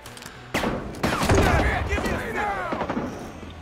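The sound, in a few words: gunfire in the video game Rising Storm 2: Vietnam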